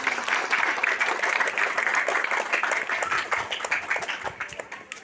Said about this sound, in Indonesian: Tepuk tangan untuk Tuhan Yesus Kristus.